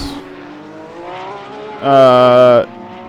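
Race cars running on the track at Suzuka in the Gran Turismo video game, a steady engine whine that swells into a loud, brief high-revving pass near the end.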